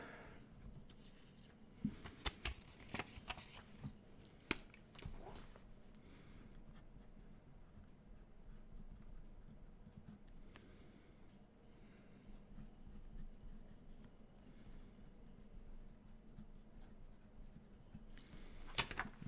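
Pen writing in a paper planner at a desk, a steady close scratching with a few louder taps and handling knocks near the start and end, no talking.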